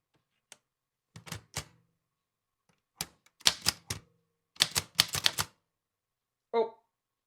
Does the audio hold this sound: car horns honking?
no